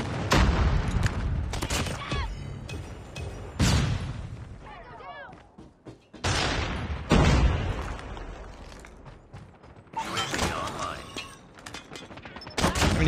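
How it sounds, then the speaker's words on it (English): A Call of Duty match with a friendly airstrike: heavy booms and rolling explosions mixed with rapid gunfire in repeated loud bursts, and players talking over parts of it. "Friendly airstrike incoming"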